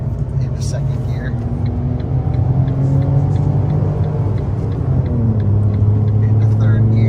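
A Fiat Panda hybrid with a manual gearbox accelerates onto an Italian motorway in second gear, its steady engine drone and road rumble constant throughout, with a person talking over it from inside the cabin.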